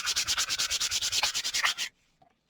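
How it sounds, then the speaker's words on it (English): Wood surface being hand-sanded with 220 grit sandpaper while prepped for mandala painting: a steady run of about fifteen quick, rhythmic back-and-forth scratchy strokes, close and clear, then stopping abruptly, with a couple of faint taps afterward. "And this is just 220 grit sandpaper."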